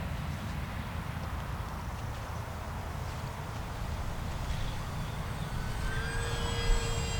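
An E-Flite P-47 1.2 m RC model warbird on a 4S battery flies overhead, its motor giving a steady droning whir with wind noise, then a rising whine near the end as it pulls out of a hover.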